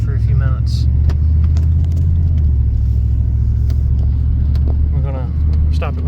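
A 1995 Chevy K1500 pickup with a 5.7 TBI V8 idles with a steady, even low rumble that stays loud and close throughout, while a person talks over it now and then.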